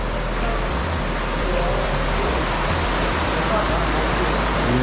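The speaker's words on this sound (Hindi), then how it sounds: "ये देख सकते हैं नीचे पानी गुजर रहा है, नीचे दरिया है।" River water rushes beneath the old mill by the engine house at Warwick Castle, a steady, full broadband roar with a deep low rumble that holds constant without pause.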